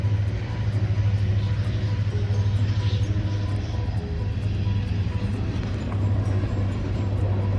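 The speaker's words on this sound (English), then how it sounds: "Sorry about the noise, the train's going by right now." A train rolls past outside an RV lot, its loud, steady low rumble holding for the whole stretch with no talk over it.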